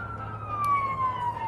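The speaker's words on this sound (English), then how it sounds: "Ambulance." A wailing siren sweeps slowly downward in pitch, steady and moderately loud, as if passing on a nearby street over low traffic rumble.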